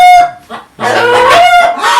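A rooster crows loudly up close while hens, including Sussex chickens, cluck and squawk around it in short bursts.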